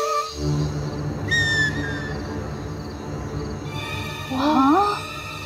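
The eerie call of the Hau, a fictional creature, sounds as thin, wavering whistle-like tones, first a short sliding cry and later a louder warbling call, over a dim background with voices talking.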